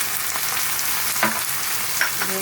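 Salt, turmeric, chilli, cumin powder and a little sugar sizzle in a hot pan while being stirred, a continuous close crackle with occasional scraping strokes.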